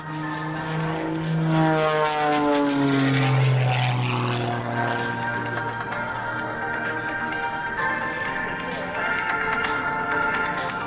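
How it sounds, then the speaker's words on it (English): An aerobatic propeller airplane flies consecutive hammerhead turns at the 2003 Dayton airshow. Its loud engine drone swells and then glides down in pitch as it climbs, pivots and dives, sounding continuous and fairly near throughout. "watch for hard, full left rudder as Sean completes not one, but 2 consecutive hammerhead turnarounds"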